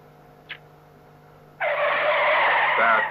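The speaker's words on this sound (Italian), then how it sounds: "Sono i freni, slittano." After a quiet moment with a faint click, a car's brakes suddenly lock into a loud, sustained tire skid that screeches steadily to the end, in a classic crime film scene.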